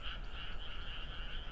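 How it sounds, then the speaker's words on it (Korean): Frogs croak in a chorus from a flooded rice paddy at transplanting season, a dense, steady trill that goes on unbroken, with no voices. "이 모내기철 되면은 논에 물을 받아 놓으면은 이렇게 개구리들이 이렇게 개구리 소리가 납니다."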